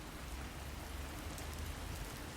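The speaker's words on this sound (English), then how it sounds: "There's a strong wind, and it's raining." Steady, dense rain hisses continuously on surfaces during a storm with strong wind, a close, even wash of sound with no voices.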